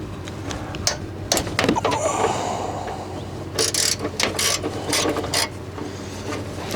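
A ratchet removing starter bolts on a 2003 Honda Odyssey makes close, loud bursts of rapid clicking separated by pauses and metallic clanks, with a faint engine-like hum underneath.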